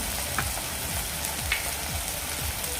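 Kashmiri red chili powder and turmeric sizzle in hot oil over a medium gas flame, a steady crackling fry with faint stirring scrapes repeating throughout, close and continuous.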